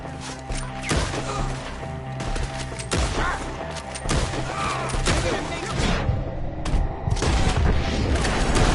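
Gunfire fills a shootout in Red Dead Redemption 2 as enemies fire from a tree. Sharp shots crack repeatedly at an irregular pace, some close and loud, with shouting voices mixed in.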